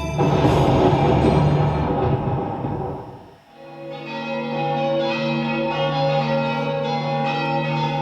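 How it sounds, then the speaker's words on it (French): Church bells ringing in a stage play: a dense, loud clangor of overlapping strokes fades away, then a second peal rings out with sustained, shimmering tones that hang in the air. "Stop les cloches!"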